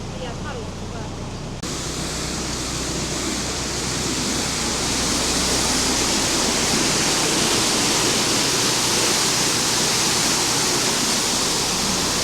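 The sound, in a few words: water rushing through canal lock paddle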